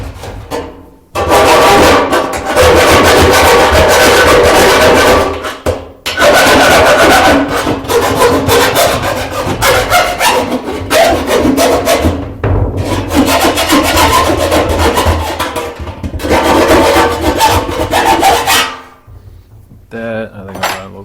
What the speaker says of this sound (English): Just use a file.